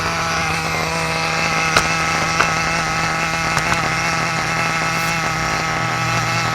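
Small nitro engine of a Kyosho USA1 RC kit idling on a table, a steady buzzing drone held close and loud throughout, with a few faint clicks over it.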